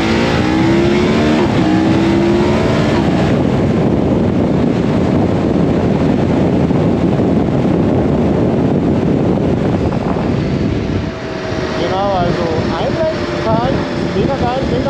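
A KTM 1290 Super Adventure R motorcycle from 2022 pulling hard under acceleration, its engine note rising through the revs amid heavy wind rush, with a brief dip and then further climbing pitch near the end.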